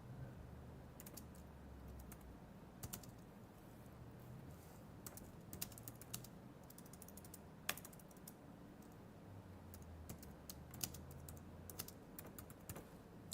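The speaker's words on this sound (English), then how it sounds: "I'm over at the computer typing" Steady typing on a computer keyboard, irregular clicks and key taps over low room hum, fairly quiet and close.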